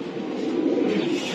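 A female giribaz racing pigeon at a farm loft gives a steady, throaty coo, close and fairly loud, sustained for a moment without talk.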